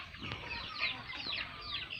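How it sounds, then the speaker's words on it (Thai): A fighting cock clucks softly at some distance, with a few short, faint calls over quiet background noise. "วันนี้อัปเดต ไก่ชนครับ"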